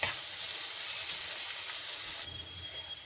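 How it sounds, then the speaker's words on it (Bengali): Onions fry in a pan with a steady, close sizzle and hiss, and the sound gets slightly busier near the end. No one speaks. "পেঁয়াজটা কিন্তু আমি খুব একটা বেশি ভাজবো না"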